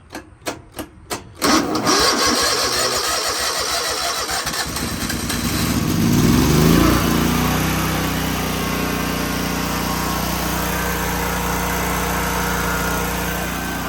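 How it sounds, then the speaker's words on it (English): A lawn mower engine is started with a NOCO Boost Plus jump starter: a few quick clicks and cranking pulses, then the small engine catches and roars up loudly before settling into a steady, close idle. "I just got back from starting the mower with the NOCO Boost Plus"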